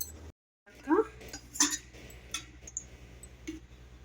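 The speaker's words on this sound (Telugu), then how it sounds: "మనం స్టవ్ ఆన్ చేసుకొని మూకుడు పెట్టుకున్నాము" A kadai is set on a stove for frying potatoes, giving a few faint metallic clinks and knocks against a low, steady hum in a quiet kitchen.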